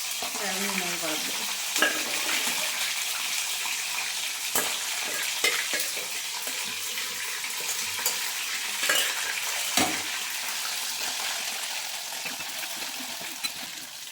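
Food fries in hot oil in a home kitchen, a steady, dense sizzle with occasional stirring scrapes and soft clinks throughout, no talking.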